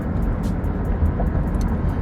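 Inside a moving car, a steady low road rumble and engine drone fill the cabin, broadband and continuous, with no voices over it.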